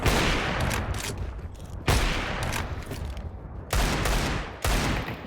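Desert Eagle pistol fire in the video game Counter-Strike 2: four sharp, loud shots spaced about a second apart, each with a dense ringing tail over a steady background of game noise.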